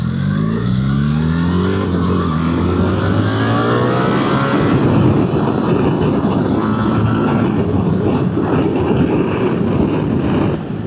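A 2025 BMW R 1300 GS Adventure with automated shift transmission pulls away hard, its engine note climbing through revs and then settling into a loud, steady drone under rushing wind noise.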